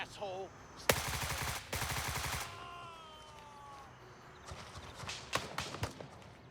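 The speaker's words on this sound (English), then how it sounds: "the gunfire in here is ridiculous" Bursts of rapid AK gunfire in the video game Gray Zone Warfare crack in two dense volleys, followed by scattered single shots and distant pops, with faint hoofbeats and brief sounds in between.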